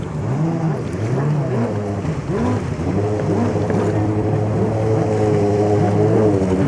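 Several jet skis, including a fast stand-up model, race on the water at a Llano, Texas event, their engines whining steadily with rising and falling pitch as they pass, loud and continuous throughout.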